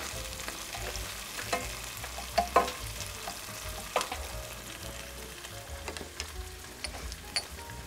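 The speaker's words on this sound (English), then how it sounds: "We have our onions sauteing away here" Onions sautéing in a pan as they are stirred, giving a steady moderate sizzle with scattered scraping and clinking of the utensil, at medium distance.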